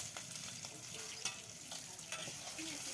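Boiled potatoes fry with spices in a pan, a steady close sizzle broken by a few stirring scrapes, with no one talking.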